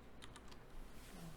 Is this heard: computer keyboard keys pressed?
yes